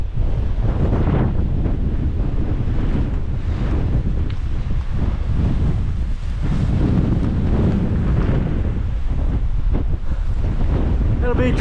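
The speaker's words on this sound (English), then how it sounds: "It's so windy up here." Strong wind roars across a microphone on an exposed hilltop during a solo hike, a loud continuous buffeting rush with gusts rising and falling throughout, no clear speech.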